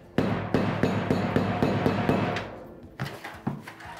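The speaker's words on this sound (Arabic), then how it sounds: "أنا عم طرقت على هاي، هذا الشاكوش اللي له طابة" A ball-peen hammer beats a copper sheet in a steady run of about seven ringing metallic strikes. After a brief pause, a few more blows follow, close and clear with no talking.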